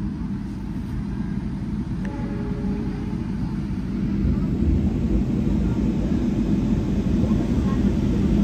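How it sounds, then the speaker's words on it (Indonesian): A shunting locomotive runs alongside a moving passenger train, a steady loud low rumble of engine and wheels that swells slightly midway and carries on throughout. "balapan teman-teman dengan lokomotif langsir dari kereta api Karajibon Semen"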